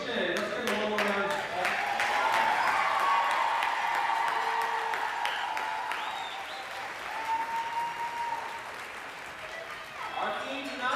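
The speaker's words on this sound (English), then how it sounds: "Let's give them one more round." Audience applause at a school district's annual Teacher of the Year celebration, a sustained, dense round of clapping from a large crowd in a hall that swells and eases slightly.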